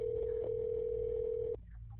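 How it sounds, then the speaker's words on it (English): Steady ringing tone of a 911 emergency call that goes unanswered, a single sustained tone held for about one and a half seconds before cutting off abruptly, over low background hum. "911, just ringing."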